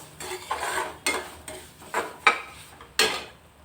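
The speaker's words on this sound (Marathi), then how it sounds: "गोल्डन ब्राऊन होईपर्यंत भाजणार आहे आता थोडा थोडा ब्राऊन व्हायला लागला आहे आपला रवा" A spoon scrapes and taps around a pan as semolina (rava) is dry-roasted over medium-low heat until golden for prasad sheera, giving about six rhythmic strokes, each a short gritty scrape, close and clear with no talking.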